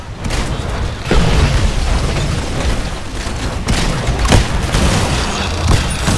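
Mech reactor powering up in the Titanfall video game: a dense, loud rumbling roar with booming bursts and mechanical clatter running continuously throughout, no voices.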